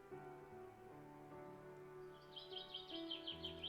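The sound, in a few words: birds chirping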